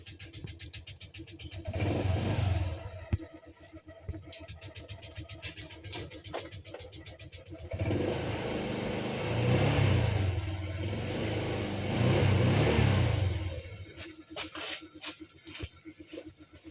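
Motorcycle engine in the countryside revving in two long surges separated by a quieter idle, fairly close, with voices talking in between.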